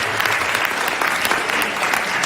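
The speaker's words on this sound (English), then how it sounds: "parents, I want to say that you deserve a round of applause and to be commended." An audience applauds parents at a youth varsity sports gathering, a thick, steady wash of clapping with a few sharper individual claps poking through, loud and continuous without speech.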